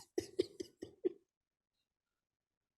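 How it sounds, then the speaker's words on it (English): A man hawks and clears his throat in a quick run of five harsh, close bursts, then falls silent before one more brief rasp at the end. "You the one over there hawking up shit."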